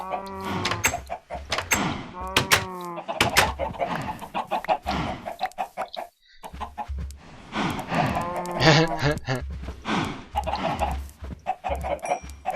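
Minecraft cows moo low and drawn out amid a crowd of clucking chickens, the animal calls overlapping densely with a brief quiet gap partway through.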